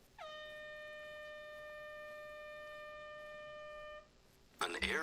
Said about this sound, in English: An air horn app?